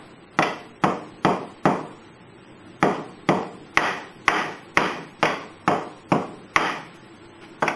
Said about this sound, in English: You gotta hammer it.